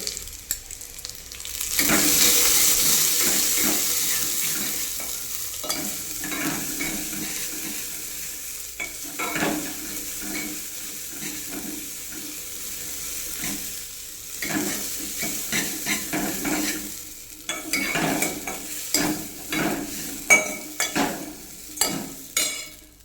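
Sprouted legumes are dry-roasted and stirred in a pan, a soft sizzle opening loud then fading under repeated scraping and clinking stir strokes that grow sharper and more frequent toward the end, close by with no talking.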